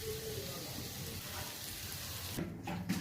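Ginger garlic paste sizzling in a pan with parboiled cauliflower, a steady soft crackle and hiss throughout, fairly quiet, with a faint clatter near the end.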